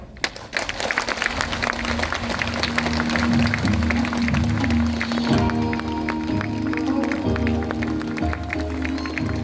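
Loud, sustained applause from an audience at a Korean council report meeting, dense clapping continuing throughout with some crowd noise and steady hum beneath.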